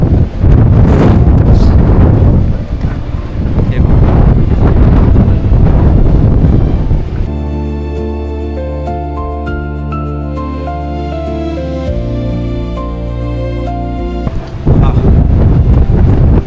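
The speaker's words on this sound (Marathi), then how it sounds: "इथे खूप वारा आहे, त्याच्यामुळे आवाज येत नव्हता" Strong wind buffets the microphone on a hilltop fort, a loud roaring rumble that fills the first stretch, gives way to a calmer tonal passage in the middle, then returns in force at the end.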